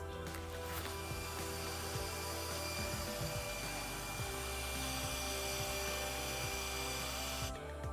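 A CNC machine cuts a relief groove into layered mold material for architectural concrete, giving a steady, high-pitched motor whine with a grinding cutting tone throughout.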